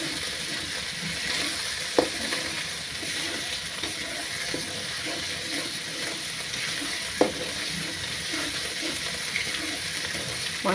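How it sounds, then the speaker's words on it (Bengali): Masala spices fry in a pan as cooking for a quick pangas fish dish, a steady soft sizzle with occasional stirring clinks and scrapes of a utensil against the pan. "মশলাটা প্রায় ভাজা ভাজা হয়ে গেছে।"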